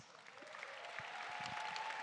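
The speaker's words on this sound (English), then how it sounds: "Please give them a big round of applause." Faint audience applause at an awards ceremony honoring accounting finalists, a soft, steady patter of many hands heard from a distance in a large hall.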